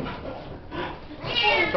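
A male cat meows near a school basketball court, with a few rising, drawn-out calls that grow louder toward the end and sit over background chatter and voices.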